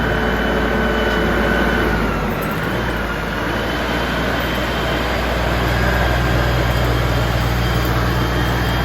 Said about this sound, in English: he got tractor coming, pulling some more trees